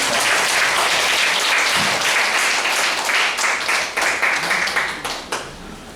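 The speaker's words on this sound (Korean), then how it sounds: "박수 부탁드립니다." A large crowd applauding steadily for several seconds at a Catholic lecture on healthcare privatization, loud and close, the clapping thinning out toward the end.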